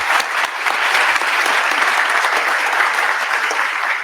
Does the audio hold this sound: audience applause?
yes